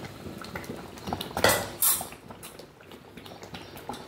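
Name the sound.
adding cooked dal to the pan for veg dalcha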